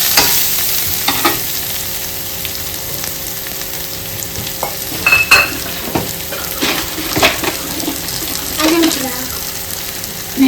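Onion with turmeric sizzles in a pan for squid sukka, a steady loud hiss broken by scraping stir strokes and occasional clinks.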